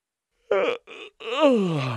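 A yawn from a voiced character in a preschool animation, a short gasping intake followed by a long, drawn-out falling moan, close and clear against silence.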